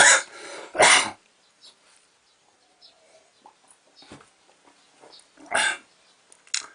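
Two harsh coughs or throat clears come close together at the start, followed by quiet rustling and another rough cough later.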